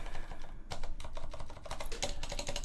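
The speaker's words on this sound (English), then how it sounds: "I'll have to type it anyway." Rapid keystrokes clatter on a computer keyboard while entering a Linux installer configuration, a close, steady run of clicks with a brief pause partway through and no talking.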